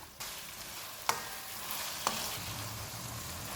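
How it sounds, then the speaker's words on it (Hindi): Minced meat keema being stir-fried in a pan over medium heat, a soft steady sizzle with a couple of sharp spatula scrapes and clinks against the pan, fairly quiet and close. "चूल्हे को मीडियम कर देते हैं और इसको 2 से 3 मिनट तक भूनेंगे।"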